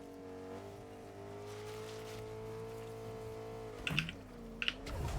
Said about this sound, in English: Vehicle over there.